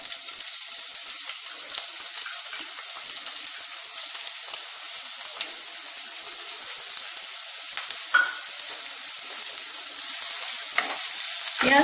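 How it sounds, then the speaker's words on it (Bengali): Onions hitting hot oil in a pan, giving a steady, dense sizzle and crackle that carries on evenly throughout, close and fairly loud with no talking over it. "তেলটা একটু গরম হয়ে যাক, তারপরে আমি পেঁয়াজ দিয়ে দেবো এর মধ্যে।"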